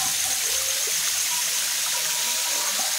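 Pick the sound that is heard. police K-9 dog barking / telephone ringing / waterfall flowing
waterfall flowing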